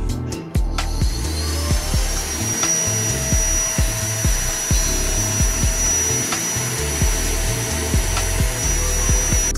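A Xiaomi G20 Lite cordless vacuum cleaner runs continuously with a steady high motor whine, while repeated low thumps and scrapes mark the nozzle being pushed back and forth across a floor.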